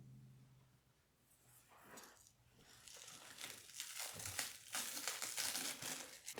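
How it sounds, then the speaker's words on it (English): Soft bubble wrap and an underlying plastic layer being peeled and unwrapped from the feet of a gong stand, giving close, steady crinkling and rustling that grows louder and busier through the second half. "They got a layer of this kind of soft bubble wrap and then a plastic underneath. So I'm going to unwrap them now."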